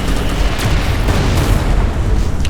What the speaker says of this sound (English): you can just shoot another cruise missile